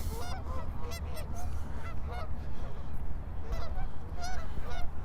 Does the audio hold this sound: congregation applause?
no